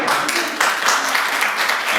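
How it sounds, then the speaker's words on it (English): Audience applause at an artist launchpad speech event at the Akron Museum of Art, a steady wash of clapping from a gathered crowd lasting about two seconds, fairly loud and continuous with voices mixed in. "Let's give a round of applause for"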